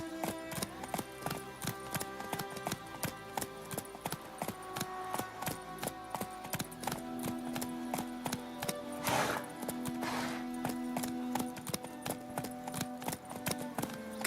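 Horse hooves clip-clop steadily on a road in The Witcher 3: Wild Hunt, a quick regular trot under game music, with a brief louder whoosh midway and no talk.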